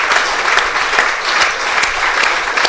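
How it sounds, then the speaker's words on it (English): Steady applause from the crowd at a one-day cup cricket match between Worcestershire and Hampshire, sustained and fairly loud throughout with no talk over it. "applause all round the ground, the media centre and beyond"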